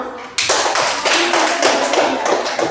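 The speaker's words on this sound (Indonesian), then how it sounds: "Tepuk tangan dulu" Classroom clapping during a religious-education lesson on the sacrament of baptism, a dense burst of many hands starting abruptly and continuing steadily and loud throughout, with no other sound above it.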